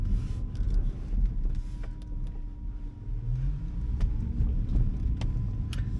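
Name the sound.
Baojun E100 small Chinese electric car driving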